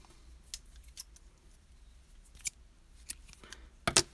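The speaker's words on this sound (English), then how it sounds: "all we have to do now is cut the yarn" Scissors snip through acrylic crochet yarn during amigurumi work, a few sharp, close clicks spaced apart, with a louder double cut at the end over quiet room noise.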